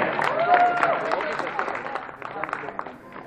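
Applause from a crowd as finalists of a Rubik's cube speedsolving final are called onstage, a loose clatter of clapping running under a voice, then thinning toward the end.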